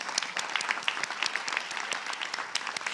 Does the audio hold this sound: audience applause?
yes